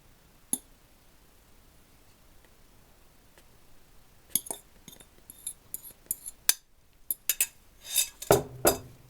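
Khachapuri dough with sulguni cheese stirred in a bowl, light scattered clinks and scrapes of a utensil against the dish, starting sparse and becoming a busier run of taps and knocks, fairly faint and close.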